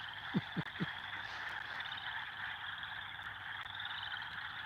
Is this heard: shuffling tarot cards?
no